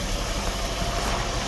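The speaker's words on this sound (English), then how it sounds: "while it's sitting here idling" A 1994 Mark 8 outboard motor idles steadily at close range, a continuous low rumble with a slight rough vibration and no other sounds.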